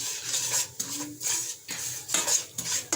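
Ground spices stirred in a pan over a low flame for a potato samosa filling, a spoon scraping and clinking against the metal in short, uneven strokes with only a faint sizzle underneath.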